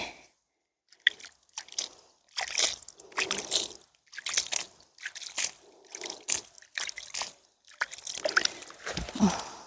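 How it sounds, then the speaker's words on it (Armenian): Irrigation water gushes and sloshes through a coriander field in irregular bursts, each surge lasting under a second with short quiet gaps between, fairly close. "այս ջրի ձայնն էլ հաճելի"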